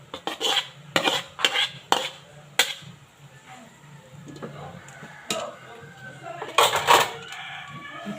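A utensil stirs a bihon guisado noodle stir-fry in a pan with sharp, irregular metallic clanks and scrapes, close by. A rooster crows in the background and a person speaks briefly.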